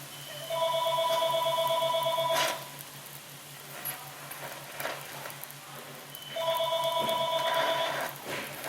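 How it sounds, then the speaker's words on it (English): A telephone rings twice in a garage during a Subaru ball joint repair, two long electronic trills separated by a pause with faint clatter and background noise. "Answer the phone, woman!"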